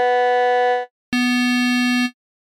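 A digital synthesizer plays two bright sustained tones, the first holding almost a second before cutting off, then a short silence and a lower, buzzier note that holds about a second.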